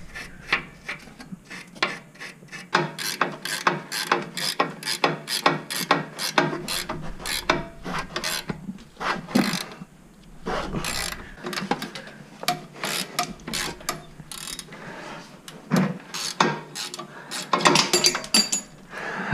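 A ratchet clicks rapidly in short repeated strokes, backing off the upper front shock bolt on a 2004 Jeep Wrangler TJ, the pawl chattering close and loud with brief pauses between bursts and no talking.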